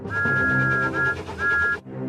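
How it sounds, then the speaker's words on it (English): A steady high steam engine whistle sounds in three blasts, one long and two shorter, over rumbling background music, cutting off abruptly. "Then Emily heard Thomas's whistle."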